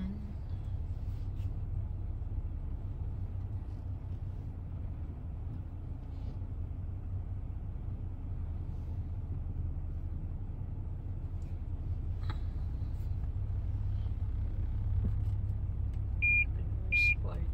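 A car reverses into a parking spot, its engine a low steady rumble throughout with a couple of faint beeps near the end.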